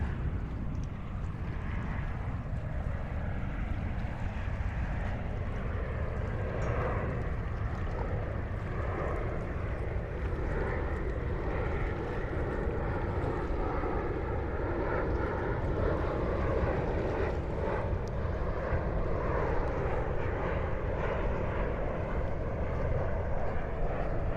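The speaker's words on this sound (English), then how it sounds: "You see a plane just went right over Riker's Island." A plane passing overhead on its approach to LaGuardia, above Rikers Island in Queens, New York, making a steady, broad engine roar that stays loud throughout, mixed with outdoor ambience and wind.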